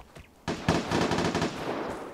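A burst of machine gun fire in the Vigor video game, rapid repeated shots rattling loudly after a brief quiet start and trailing off toward the end.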